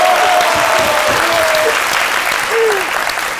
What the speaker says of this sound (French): On applaudissait pour nous.